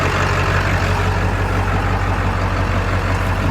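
A truck engine idling right after starting, a steady deep low rumble, close and constant with no talk.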